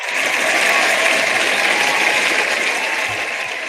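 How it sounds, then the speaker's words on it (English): Steady, dense applause from an audience on a real-estate talk show, a continuous crackling wash of clapping holding at an even level throughout without any speech. "That's worth a round of applause."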